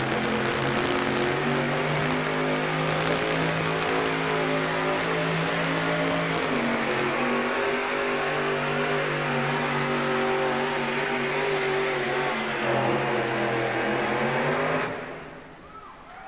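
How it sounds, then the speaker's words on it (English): A supercharged monster truck engine roars at a steady, loud, throbbing idle and rev at a 1987 USHRA event in Tucson, then cuts off abruptly near the end. "When you touch the throttle on a supercharged engine, the motor comes to life immediately."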